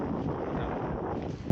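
Wind buffets a microphone on a beach during a tent setup, a low, rumbling, continuous roar with a sharp gust right at the end.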